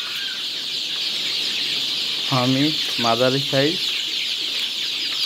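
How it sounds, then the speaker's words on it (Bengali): Farm chickens, broiler birds mixed with some Sonali hens at a poultry seller, give a few short clucking calls over a steady hiss of background noise; someone speaks briefly. "দেখেন ফার্মি মুরগি, ভিতরে কিছু সোনালিও আছে।"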